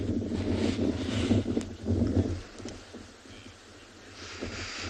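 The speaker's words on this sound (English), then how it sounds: "all of a sudden it's got very windy" Strong wind gusts buffet an outdoor microphone on an afternoon safari drive in South Africa, a loud low rumble that surges twice and then eases to a softer, steady blow.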